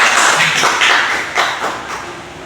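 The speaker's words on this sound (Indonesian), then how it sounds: "Tuh, tepuk tangan untuk kalian semua." A group of young pupils in a second-grade Indonesian-language classroom clapping together, a dense patter of hand claps that is loud at first and then thins out over a couple of seconds.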